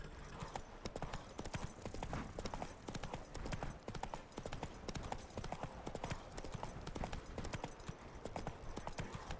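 Roach, a horse in The Witcher 3: Wild Hunt – Blood and Wine, gallops at a sprint, with steady, close, loud hoof clip-clops under a dense game soundscape and no talking.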